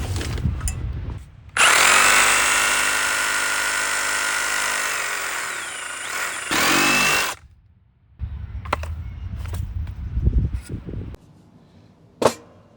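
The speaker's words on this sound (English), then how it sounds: "then I'll drill into it" A power drill whirs steadily for several seconds, revs briefly again, then stops, followed by scattered clicks and a sharp knock.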